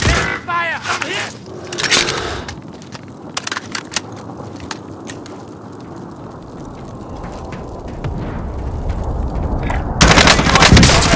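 Gunfire in Call of Duty Warzone: loud, close bursts of rapid shots and cracks mixed with crunching impacts and rattling, carrying on steadily and swelling near the end, with a voice calling out at the start.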